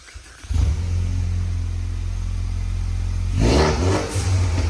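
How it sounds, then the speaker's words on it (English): A 2018 Ford Mustang EcoBoost turbo engine with an MBRP exhaust is revved hard from idle, holding a loud steady roar for about three seconds before a second sharp blip, with no talking. "You hear the turbo?"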